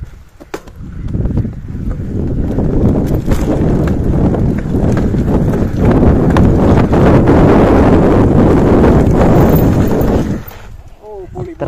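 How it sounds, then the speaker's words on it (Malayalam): A bicycle rides fast over an offroad gravel track and skids to a stop, a long, loud, rough crunching scrape smothered in wind rumble. It fades out near the end, and people talk over it. "അപ്പൊ നമ്മള് സ്പീഡില് പോയിട്ട് ജസ്റ്റ് ഒരു നിരക്കി നിർത്താൻ പോട്ടെ അവിടെ"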